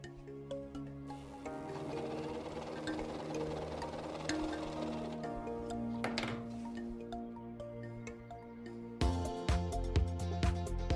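A Gritzner 788 overlock sewing machine stitching sequin ribbon hums and rattles in a steady mechanical run, with a brief pause and a louder, clattering restart near the end, close and without talk.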